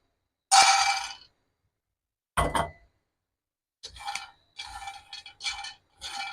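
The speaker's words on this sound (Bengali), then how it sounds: "নাড়া বন্ধ করা যাবে না যতক্ষণ পর্যন্ত ডালা না হয় এভাবে নাড়াচাড়া আস্তে আস্তে নাড়তে হবে" Nuts roasting with salt and sugar in a pan on a stove for homemade Nutella-style spread, stirred with a metal utensil: short scraping and clinking bursts separated by silences, close and fairly loud, with no voices.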